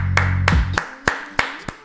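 Applause for a football chip shot by Luis Díaz of Liverpool: a few separate sharp hand claps ring out at uneven intervals, close and fairly loud, with a low rumble fading away underneath.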